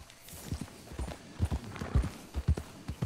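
A horse's hooves clip-clop in Red Dead Redemption 2, irregular close thuds in uneven pairs and clusters at a walking pace, with no talk over them.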